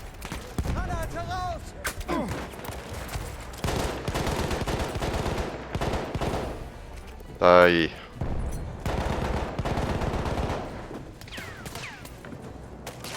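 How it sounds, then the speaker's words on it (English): Battlefield 1 team deathmatch gunfire: dense, continuous bursts of automatic fire and scattered shots with an explosion in the middle, and a player briefly speaks over the din. "Gunfire coming from everywhere."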